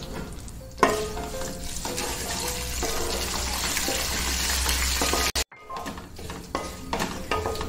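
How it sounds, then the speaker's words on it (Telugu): Raisins and curry leaves frying in oil for coconut rice, a steady close sizzle with stirring clatter, broken by a brief silence before the frying resumes. "నెక్స్ట్ దీంట్లో కిస్మిస్ కరివేపాకు కూడా వేసుకుని ఫ్రై చేసుకోవాలి"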